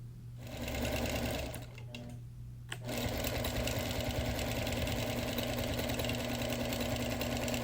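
A sewing machine stitches quilting lines on a wool wall quilt, its steady mechanical whir running close and continuous, with a brief pause near the start before the motor resumes at an even pace.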